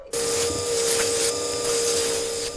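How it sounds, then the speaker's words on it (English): Wood segments pressed against a running power sander, a loud continuous abrasive whine with a steady humming tone, close and constant after an abrupt start. "now I'm gonna smooth everything out on the sander here"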